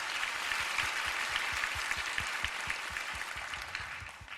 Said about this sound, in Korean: 아버지 하나님께 영광의 박수 올려드리면서 예배 시작하겠습니다